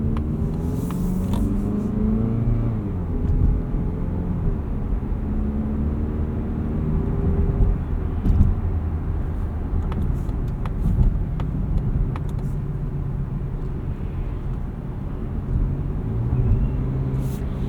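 A 2026 Mazda CX-30 2.5S Aire Edition drives along with a steady low engine drone and road rumble heard from inside the cabin, the level holding even with mild swells and no talking.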